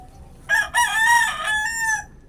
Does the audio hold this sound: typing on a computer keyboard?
no